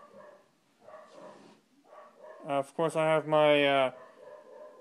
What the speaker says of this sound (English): if you guys hear my dog barking right now